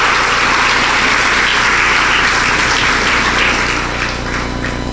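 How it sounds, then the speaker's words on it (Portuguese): Sustained applause from a church congregation, dense and steady throughout, loud and fairly close, easing slightly toward the end with no voices clearly on top. "Aplauda o Senhor Jesus"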